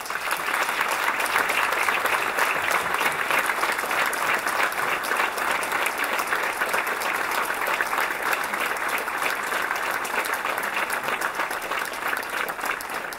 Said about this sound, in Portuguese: Para todos vós e para todas as pessoas que eu enunciei, eu pedia uma grande salva de palmas.